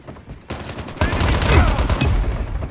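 Rapid machine-gun bursts ring out in the mobile shooter Call of Duty Mobile, loud, dense and close, building into sustained fire after a quieter start.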